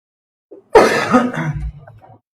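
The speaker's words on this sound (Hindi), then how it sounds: "बोलो तो खांसी शुरू हो जाती है" A single person nearby clears their throat and coughs once, a short rough burst after a brief quiet sound.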